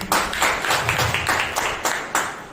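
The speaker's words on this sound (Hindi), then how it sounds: "एक जोरदार ताली बजाइए परमेश्वर के लिए" A church congregation claps together for God, a dense, steady burst of many hands applauding at close range, lasting a couple of seconds with a few louder swells.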